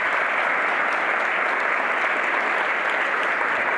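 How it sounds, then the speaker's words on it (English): Loud, continuous applause from an event audience for the speakers, a thick, even burst of many hands clapping close up for the whole stretch. "Please join me in giving a huge round of applause to our speakers."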